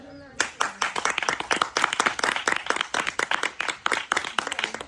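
Audience clapping in dense, continuous applause to cheer on contestants at a strength-testing game, loud and close, with rhythmic bursts and voices mixed in underneath.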